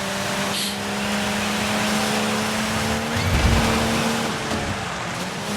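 A BMW rally car in the Dirt 5 racing game holds a steady, loud engine drone with a constant pitch and a sustained whine, swelling briefly midway, with no talk over it.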